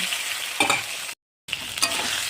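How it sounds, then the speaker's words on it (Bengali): Potato and eggplant pieces fry in oil left over from frying fish, giving a steady, close sizzle with stirring swells and one brief silent cut, and no voices. "মাছ ভাজার যে তেলটা বেরিয়েছিল তাতেই আমি আলু বেগুনটাও ভেজে নিচ্ছি"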